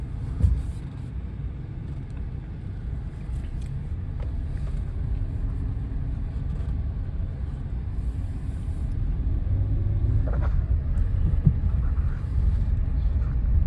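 A truck in American Truck Simulator rolls along with a constant low engine drone and road rumble, steady and moderately loud, faint wind-like noise on top and no voices.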